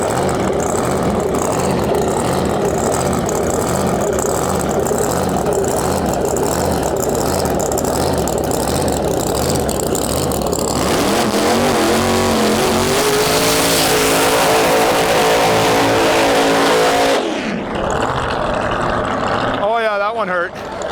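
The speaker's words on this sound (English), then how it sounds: "Coming up, big nasty burnout I'm sure coming our way, and man is this thing loud." Loud drag racing car at a dragway season opener, engine roaring continuously at close range with a rising revving section during the burnout, then cutting off abruptly near the end.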